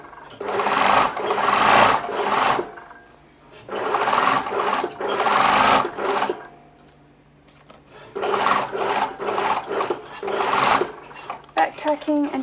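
A sewing machine stitches fabric in several loud, close bursts of rapid whirring separated by pauses, with a person speaking in between and faint handling noises near the end.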